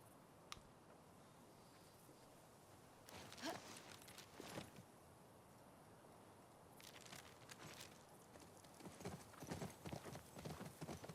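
A horse's hooves clip-clop at a steady walking pace in The Last of Us Part II, with a few louder clusters of hoofbeats and faint ambient noise beneath.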